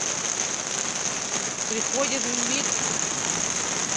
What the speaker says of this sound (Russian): Первый весенний дождь.